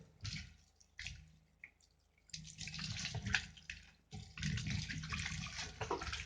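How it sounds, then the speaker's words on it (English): Something is washed and swished in salted water in a basin, with bursts of splashing and pouring broken by short quiet gaps, close and fairly soft. "You wash the second time, you add salt again, and you wash again."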